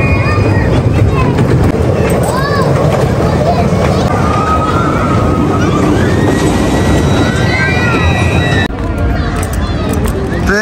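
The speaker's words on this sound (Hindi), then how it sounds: "ये जी ट्रेन चल पड़ी है, ये बच्चों की ट्रेन।" Children's amusement park train ride running at a fairground in Rawalpindi, a continuous rumble with faint rattling and whistle-like squeals, heard near amid a steady crowd babble and people talking.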